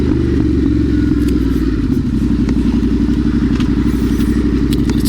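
A Yamaha Tenere 700 World Raid motorcycle idles and putters nearby at low speed while turning around, its engine a loud steady throbbing rumble with small clattering ticks, no talking.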